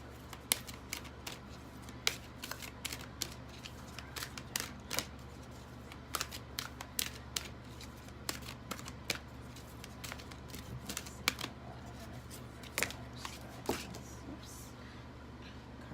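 Tarot cards from a Unicorn deck being shuffled, a quiet run of soft riffling snaps and taps at irregular intervals over a faint room hum.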